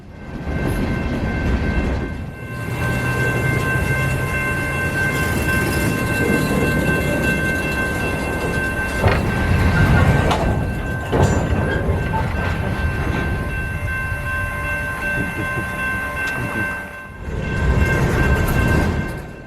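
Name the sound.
CSX freight train passing with horn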